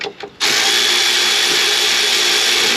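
A power tool spins and tightens the rear wheel bolts on a 2013 Buick Enclave during a brake pad and rotor job, a loud steady whir after a couple of short quiet taps at the start.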